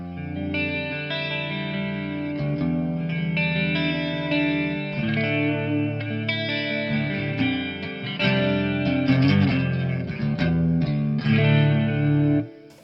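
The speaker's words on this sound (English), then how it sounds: "I can engage also the reverb of the Bluguitar." Electric guitar played on a clean setting through a Bluguitar amp with its reverb engaged, loud ringing chords and notes that linger and swell before a sudden cutoff.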